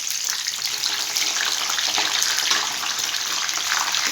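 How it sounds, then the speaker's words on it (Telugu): Brinjal bajji deep frying in hot oil, a steady, dense hiss and crackle of sizzling that runs unbroken and close throughout. "ఇదిగోండి ఈ విధంగా అయితే వేయించుకుందాం"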